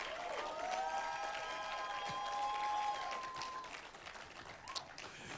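Audience at the opening of the International Creative Summit in Abuja applauds with some shouting, a steady wash of clapping that holds loud for about three seconds and then thins out.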